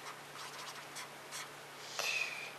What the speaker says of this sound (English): I'll write it down for you.